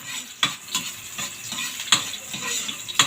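Pork for adobo stir-frying in a pan: steady close sizzle with repeated scraping stirs of a utensil every half second or so, no talk.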